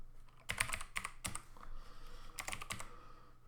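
Keys clatter on a computer keyboard during a programming session, several quick clusters of taps separated by short pauses, close and fairly quiet with no talking.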